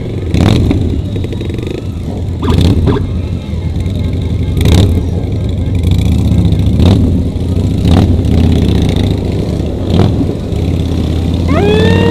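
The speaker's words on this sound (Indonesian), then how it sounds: "Mantap nih Harley nih, suaranya garang banget." A Harley-Davidson motorcycle engine revs with a harsh, throaty rumble during a city rolling ride of hundreds of bikers, with a steady loud drone and several sharp throttle bursts along with other traffic nearby.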